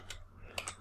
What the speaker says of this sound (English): I type here